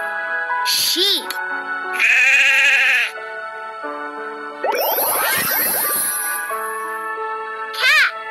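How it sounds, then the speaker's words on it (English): A sheep bleats in a baby animal learning game, several loud, quivering bleats in short bursts between cheerful game sounds and chimes. "Sheep."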